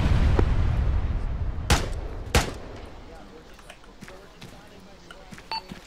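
Artillery rounds impacting in the ArmA 3 video game: two sharp, loud booms a little apart, followed by fainter distant thuds and crackle over a low rumble, with brief electronic beeps near the end.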